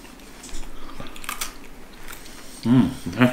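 A chocolate-filled Christmas cookie being bitten and chewed close by, soft crunching and mouth sounds, followed by brief voices near the end.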